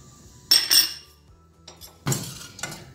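A custard mixture of milk and cream powder is stirred in a pot over low heat, with a metal spoon scraping and clinking against the pot in a few short bursts and no voices.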